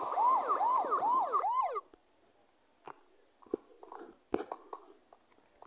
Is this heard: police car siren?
yes